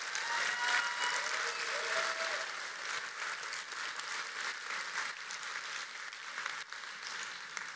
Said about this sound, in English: I think we should have another round of applause for Integrity Check